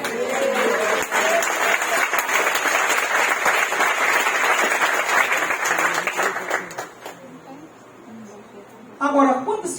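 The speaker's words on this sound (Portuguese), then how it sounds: "Aplauda o nome dele." A church congregation applauds loudly and steadily for several seconds before the clapping thins out, with voices rising near the end.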